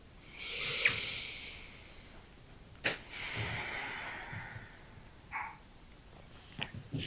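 Slow, deep breaths during an evening stretching routine, with long airy inhales and exhales close and soft, separated by quiet pauses.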